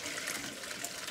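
Cooked spinach liquid is poured through a strainer, giving a continuous, close gushing and trickling of liquid that stays steady for the whole short moment.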